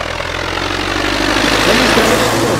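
A loud, steady tractor engine rumble idles close by at a tractor contest in Kyrgyzstan, with a low chugging drone that swells slightly toward the end.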